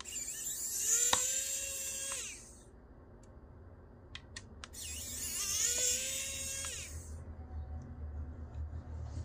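Screws are backed out of a JBL Tuner radio casing with an electric screwdriver. It gives two loud, close whirring bursts of a few seconds each, with a pause between them.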